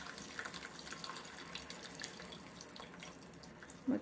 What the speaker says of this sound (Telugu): ఇప్పుడు చింతపండు రసం వేసుకుందామండి